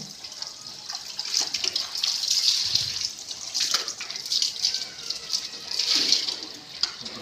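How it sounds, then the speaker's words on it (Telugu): Cashew fruits brought in from the field being washed clean in water, steady close splashing and running water with sloshing and rubbing through the whole stretch, no talk. "శుభ్రంగా కడిగి"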